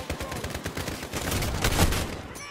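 Rapid gunfire from the shooter Call of Duty Modern Warfare rattles in dense bursts, loud and continuous throughout, with brief talk mixed in.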